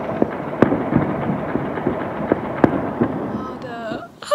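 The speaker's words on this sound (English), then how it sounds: "Fireworks outside." Fireworks bursting outside at midnight on New Year's Eve, a steady crackle of firecrackers broken by a few sharp, louder bangs, some distance away and continuing throughout.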